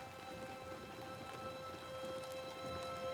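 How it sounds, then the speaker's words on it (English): Steady rain falls on snow along a riverbank in the video game Banishers: Ghosts of New Eden, a continuous dense hiss with a faint tonal hum underneath and no speech. "Oh, I love that sound of the rain"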